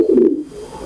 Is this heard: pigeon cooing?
yes